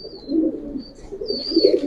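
Silver pankhi military pigeons coo close by, soft low throaty calls rising and falling in a few repeated swells, with faint thin chirps above and no talking.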